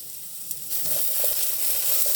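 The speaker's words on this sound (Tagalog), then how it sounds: "Minis ko yung corned beef." Corned beef frying in a pan as it is stirred, a steady close sizzle with faint scraping of the utensil and no talk.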